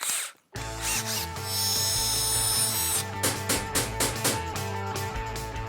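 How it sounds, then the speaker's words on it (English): A power drill whirs loudly and steadily, its pitch holding, then stutters in short bursts as the bit bites into the wood of a roughly 70-year-old wooden bed being taken apart, close to the listener. "we'll get the drill and the saw, and then we'll try and take this apart, drill it out"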